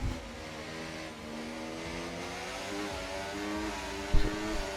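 Engine of a McLaren race car in a racing video game during a Las Vegas race, a steady mid-pitched drone with shifting tones near the end and a brief louder burst, no talking.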